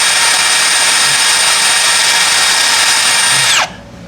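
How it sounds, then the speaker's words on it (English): A power drill whines loudly and steadily at close range drilling out broken studs on a GMC truck, then winds down and stops near the end. "Drill, baby, drill."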